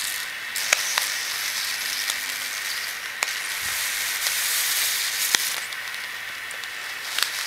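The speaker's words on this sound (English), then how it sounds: "it's starting to get a simmer sound. It's a light simmer" A motherboard frying in a pan gives off a light, steady sizzle with a soft continuous hiss, broken by a few faint crackles and ticks throughout.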